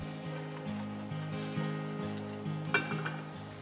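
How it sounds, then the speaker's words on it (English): Mushrooms dry-sautéing over medium heat in a non-stick pan, with soft intermittent sizzling and a few light utensil taps. "Dry saute the mushrooms for about 3 to 4 minutes."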